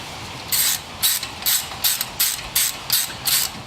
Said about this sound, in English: you can go on ahead and put your T40 Torx screw back in. And go on ahead and tighten it up.